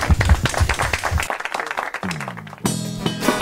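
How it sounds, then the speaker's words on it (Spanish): A brief burst of audience clapping greets Argentine folk musicians at a live performance, lasting about a second before instruments and a voice take over. "Les recibimos un fuerte aplauso."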